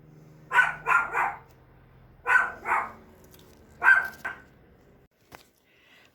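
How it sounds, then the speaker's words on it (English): A dog barks in three clustered bursts of two or three loud, near barks each, spaced over a few seconds, followed by quiet with faint clicks. "I know he has a bark that can just singe your ears."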